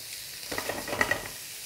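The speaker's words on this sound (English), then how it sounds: "it should have a nice sizzle" Beef steak searing in a hot pan gives off a soft, steady sizzle, with a few light clinks and stirring sounds near the middle; no one speaks.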